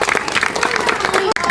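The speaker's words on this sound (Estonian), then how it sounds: "ma arvan, et te võite endale suure aplausi teha." Brief burst of clapping from a group of children at a Lottemaa theme park activity, lively and close with voices mixed in, cut short after a second and a half.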